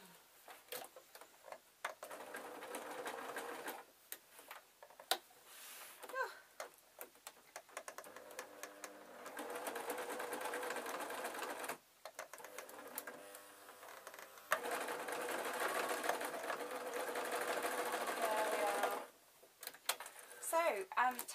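A domestic sewing machine runs in rapid bursts while stitching the last seam of a spider soft toy, close up, with short pauses between runs and quiet handling noises in the gaps.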